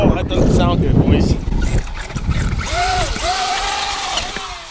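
Gears grinding in a damaged RC UDR truck after a rough landing: a noisy outdoor rush and rumble, then wavering, whining mechanical pitches that rise and fall over several seconds.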